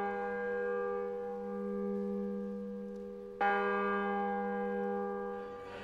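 A newly blessed Notre-Dame de Paris church bell rings out with a long, sustained harmonic hum, then is struck again partway through with a bright fresh attack and a rich lingering resonance, alone and fairly distant.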